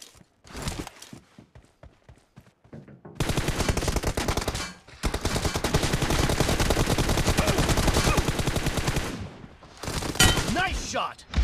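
Automatic rifle fire in a one-on-one team deathmatch shooter with an M416, sounding as long, dense, loud sustained bursts after a few scattered single shots, with a short gap between volleys and voices calling out over the action.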